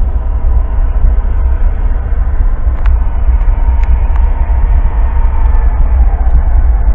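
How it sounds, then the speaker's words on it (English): An ATSF freight train rolls past as a steady, loud rumble with deep low-end roar and metallic clanks, holding even throughout with brief high squeals near the middle. "Now we have a ATSF freight train going by."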